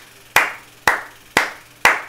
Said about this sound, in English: Just to prove I was clapping.